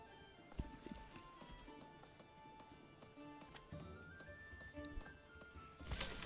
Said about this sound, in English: And then we can permanently add the horse once it arrives.